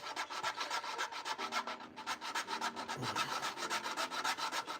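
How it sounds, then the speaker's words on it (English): Small plastic pegs on a model kit being filed down by hand, a steady close rasping rub repeated in quick strokes for several seconds, with no talking. "Just to sand those little pegs down with."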